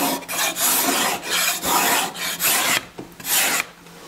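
A cabinet scraper works along a wooden table leg to remove saw marks, giving loud rasping strokes in a steady rhythm, about seven passes with brief pauses between them, close up and with no talking.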